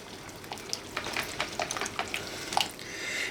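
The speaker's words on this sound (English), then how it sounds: "we're just going to give that a quick whisk together until smooth" A whisk beats a frittata batter of eggs, salt and pepper in a bowl, giving quick, uneven scraping and tapping strokes close by, with no talk.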